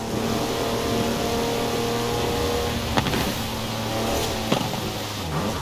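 A four-wheel-drive car on mud tyres revs and slides sideways in the racing game Forza Horizon 4, its engine note sustained and droning with a couple of sharp knocks, over game music.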